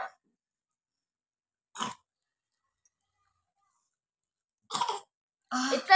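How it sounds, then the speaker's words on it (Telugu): A child coughs in a few short, separate bursts with long silent gaps between them, the last one a slightly longer, rougher fit. "దగ్గొచ్చింది, దగ్గొస్తుంది."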